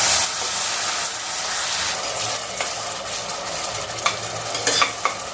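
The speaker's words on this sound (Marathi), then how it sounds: "जिरं वाटण ते आपल्याला छान परतवून घ्यायचं आहे" Cumin spice paste for undhiyo sautés in hot oil, a loud, dense sizzling hiss throughout with occasional spatula scrapes and taps near the end.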